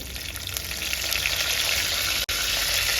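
Curry leaves, cumin and mustard seeds hit hot oil for a tempering, producing a loud, continuous bright sizzle that builds and holds steady, broken by one very brief cutoff.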